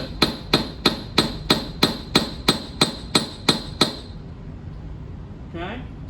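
A hammer strikes a metal rivet on a steel block beside a surface plate, landing eleven sharp ringing blows at a steady pace, loud and close. Afterwards a brief faint sound follows in near silence.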